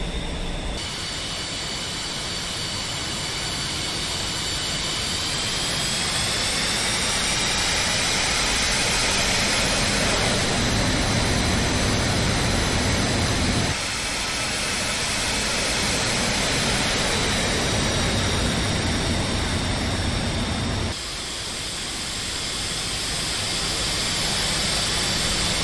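An F-5E Tiger II jet engine runs in the DCS flight simulator, a loud continuous roar with high whining tones that rise and settle, broken by a few abrupt shifts in the noise, with no talking.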